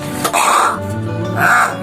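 A myna bird mimics a human cough, giving two short, close, raspy throat-clearing bursts in under two seconds.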